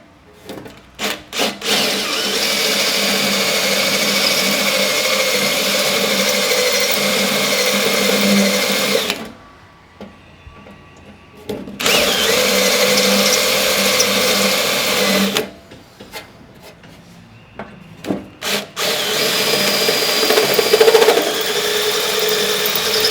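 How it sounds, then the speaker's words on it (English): A power drill grinds through car body spot welds in loud bursts: a long continuous cut, a pause, another long cut, a second pause, then a final run, each close and harsh with no talking. "Drilling out spot welds."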